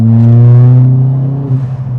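Steady, loud engine drone from a Ford Fiesta ST with a Stage 3 tune, heard from inside the car while driving, holding a firm tone before easing slightly near the end.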